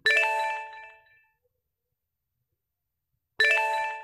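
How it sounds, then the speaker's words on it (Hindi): An Instagram message notification chimes twice: a bright, ringing ding that decays over about a second, then silence, then the same tone again, close and clean with nothing else around it. "हमारा इंस्टाग्राम का मैसेज आया है यहाँ पर नोटिफिकेशन साउंड सुनाई दिया है"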